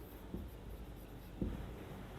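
A pen or marker drawing on a board during a geometry lesson, a faint steady scratch with two brief taps, quiet and without talking.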